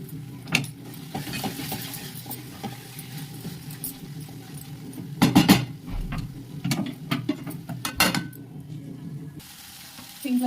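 Methi aloo curry with garam masala sizzles and crackles in a pan, with intermittent stirring scrapes and a louder burst midway, heard alone without talk.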